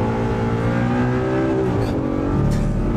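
A loud Audi R8 race car engine revs hard and climbs in pitch, shifting up through the gears as it accelerates nearby at Fuji Speedway.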